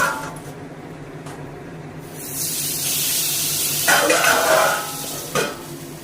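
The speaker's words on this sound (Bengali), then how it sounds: "কড়াইতে তেল দিয়েছি, এবার মাছ ছাড়বো।" Small tangra fish hit hot oil in a wok, and a loud hissing sizzle swells up with a sharper spitting burst and light clatter against the pan.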